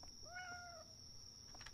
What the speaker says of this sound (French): J'ai entendu un chat!